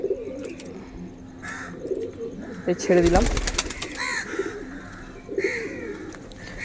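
Pigeons on a rooftop coo and flutter, with wing flaps and calls around a brief burst of nearby movement, and someone talks briefly over the birds.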